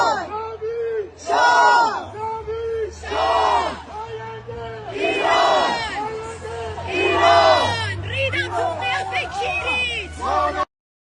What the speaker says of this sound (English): the rest of the crowd were chanting, "Long live the king, Iran will be free."